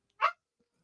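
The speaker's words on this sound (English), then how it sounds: "Sorry if y'all hear my dog crying." A dog behind a shut door gives a single short, muffled yelp, fairly faint and alone, followed by near silence.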